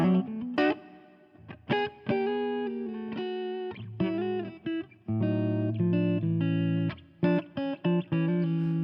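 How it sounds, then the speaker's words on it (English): An electric guitar plays through a Mesa JP-IIC+ style preset with Fractal studio reverb: distorted, sustained notes and chords in short phrases, each note ringing out with a reverb tail before the next. "The reverb I use now is the studio reverb"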